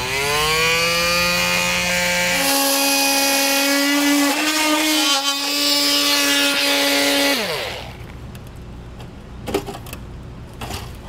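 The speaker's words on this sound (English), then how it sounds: "And then with the oscillating tool, I'm gonna go and just cut this out" An oscillating multi-tool cuts a section out of a 2022 Chevrolet's front panel for a hidden front-mount trailer hitch receiver, a loud, steady high buzz with shifting pitch for about eight seconds, then quieter handling noises.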